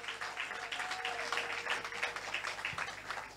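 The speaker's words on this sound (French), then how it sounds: "On peut acclamer pour la parole de Dieu" A church congregation at a Thursday deliverance worship service applauds and cheers, a steady, fairly distant wash of clapping and voices running through the whole moment.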